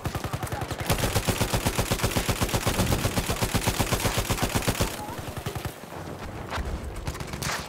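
Sustained machine gun fire in the video game Battlefield 1, a loud, rapid, evenly spaced burst for about five seconds, then quieter scattered shots and background battle noise.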